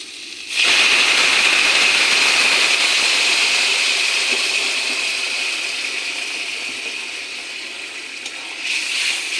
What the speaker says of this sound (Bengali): আমি গরম জল করে রেখেছি ওটা ঢেলে দেব